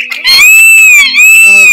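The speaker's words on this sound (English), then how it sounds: "that screeching is going to drive me insane" Loud, sustained high-pitched creature screech from the video game Spore, a piercing tonal wail lasting over a second with a slight dip midway, close and dominant.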